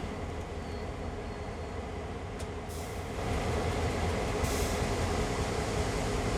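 Train brakes in Train Sim World 2020 on the CN Oakville Subdivision: a steady rail rumble swells into a louder, sustained hissing grind partway through.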